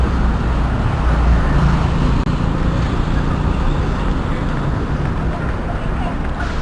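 Steady street traffic rolls past a curb on Orchard Road, a continuous wash of car and bus engines and tire noise close by, with no breaks in the flow.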